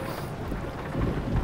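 Rain in American Truck Simulator, a dense broadband hiss with low rumbling, steady and fairly faint, with no voice.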